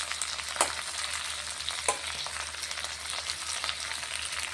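Drumstick leaves frying in oil for an egg curry, a steady bright sizzle with a couple of sharper pops and stirring sounds, close and continuous with no talk.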